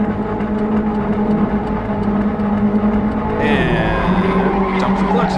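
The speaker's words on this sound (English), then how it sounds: "Build up some revs." In a racing sim, an Abarth's engine holds a steady high idle, then climbs sharply in pitch as revs build, loud and close with a faint whine on top.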